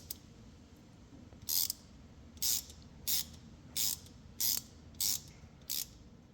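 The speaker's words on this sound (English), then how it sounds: "I'm gonna run this set screw down right till when I feel it barely touch the" A ratchet clicks in short, even bursts, about seven quick ratcheting strokes, as it tightens a set screw against an axle seal during a front Spidertrax axle overhaul, close up, with no talking.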